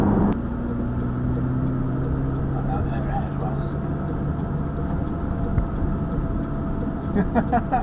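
Inside the cheapest McLaren sports car, the engine keeps up a steady, punchy drone while driving, with a voice talking over it.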